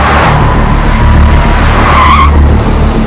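Speeding vehicles skidding, with loud, close tyre screeching over a roaring engine that runs continuously throughout.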